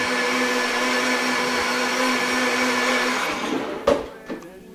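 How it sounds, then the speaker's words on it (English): A Blendtec blender runs at a loud, steady high-pitched whir while making a smoothie, then winds down near the end with a couple of clunks. "Ask me what type of blender I'm using. I'm using a blend tech."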